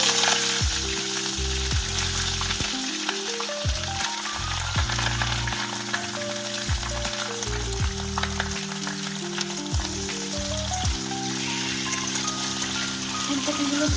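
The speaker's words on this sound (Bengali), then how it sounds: "তেলটা গরম হয়ে যাবার পর এর মধ্যে আমি ফুলকপিগুলো ভেজে নেব" Steady oil sizzle and crackle of cauliflower pieces frying, continuous throughout, with a tonal musical backing playing over it; no talking.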